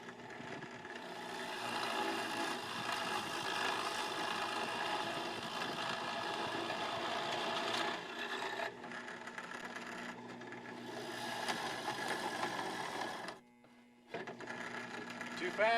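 A Harbor Freight 8-inch drill press runs steadily with its belt slipping, a continuous close mechanical whir and hum that briefly drops out near the end before resuming.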